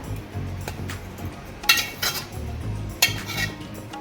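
Roasted gram flour for besan ladoo is scraped from a metal wok onto a plate: soft, steady scraping with two sharper metallic clinks partway through, close by and fairly quiet.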